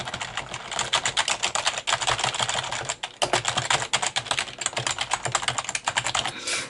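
Continuous rapid typing on a Logitech G710 Plus mechanical keyboard with Cherry MX Brown switches, dense clattering keystrokes close up with one brief pause midway, no voices.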